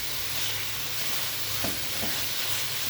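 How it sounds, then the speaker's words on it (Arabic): Chicken pieces for chicken shawarma fatteh sear in a hot pan, a close, steady sizzle and crackle with a couple of light stirring scrapes as they are turned to brown on all sides. "نبدأ نشوحها بالطريقة دي عشان تاخد لون من كل الجوانب"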